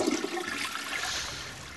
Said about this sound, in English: Bramah invented the water closet, because all that beer has to go somewhere